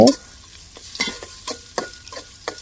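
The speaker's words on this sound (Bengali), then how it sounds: "তো প্রথমে পেঁয়াজ ভেজে নিব সাথে কয়েক টুকরা এলাচ দারচিনি দিয়ে দিলাম তো পেঁয়াজটা ভালোভাবে ভাজা হয়ে গেছে" Onions fry in a pan with a few pieces of cardamom and cinnamon while a spoon scrapes and stirs them in a string of sharp, irregular strokes over a soft, low sizzle.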